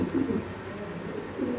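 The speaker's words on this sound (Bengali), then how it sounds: "আচ্ছা প্রথমে দেখাইলাম 12টা কবুতর।" Pigeons kept for sale coo close by in two low, throaty bursts, one at the start and one near the end, over a faint steady background.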